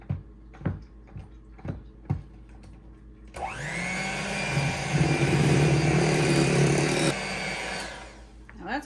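An electric mixer whirs steadily for several seconds through Boston cream cake frosting, running at a loud, even drone after a few sharp knocks and clatters at the start.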